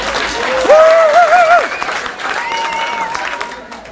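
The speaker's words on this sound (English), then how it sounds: "Give another round of applause." A talk-show studio audience breaks into applause, a steady wash of clapping lasting the whole moment, with a few whistles rising over it near the start.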